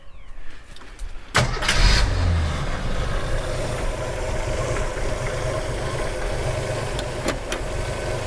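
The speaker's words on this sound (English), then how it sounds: "will you run and idle without external assistance now?" A neglected Jeep engine with a carburetor and no working accelerator pump cranks, catches at about 1.4 seconds and settles into a steady, rough idle, loud and close with no talk.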